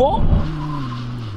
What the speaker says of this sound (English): let's have a brake test from 160 kilometers an hour, also known as 100 miles an hour